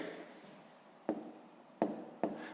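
A pen scratching on paper while working a sixth-grade maths problem, three brisk close strokes after a quiet stretch of faint rustle.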